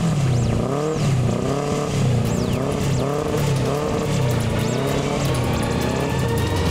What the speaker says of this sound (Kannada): ಬೈಕ್ ಸ್ಟಾರ್ಟ್ ಆಗೋಯ್ತು.